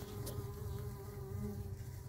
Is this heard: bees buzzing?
yes